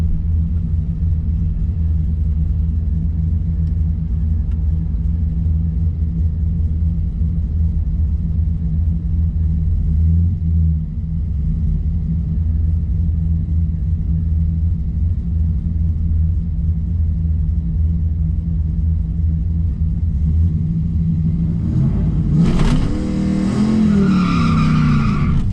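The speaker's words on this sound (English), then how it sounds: "He lets me know that it's now safe to warm up the tires." A Trans Am drag car rumbles steadily at a drag strip, then its tires break loose into a loud squealing burnout near the end as the engine revs up.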